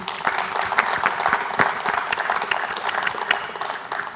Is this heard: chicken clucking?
no